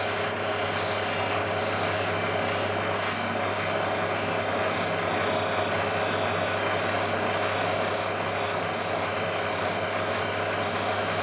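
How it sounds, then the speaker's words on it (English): An opal being pre-polished on a lapidary wheel, the step before cerium oxide, gives a steady abrasive rubbing hiss that runs continuously and close throughout, with no talking. "Really just polishing it now. Pre-polish. Basically the step before cerium oxide."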